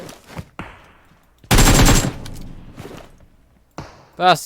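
Bursts of gunfire in the PUBG Mobile battle royale game: a loud sustained burst of rapid shots in the middle, and a few sharper isolated cracks and thumps around it, with intermittent talk.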